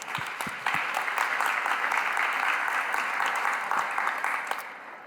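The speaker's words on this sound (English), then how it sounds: "let's give them some applause" Conference audience applauding after speakers from Meta and Spotify are introduced, a dense, steady wash of many hands clapping that holds for several seconds before tapering off at the end.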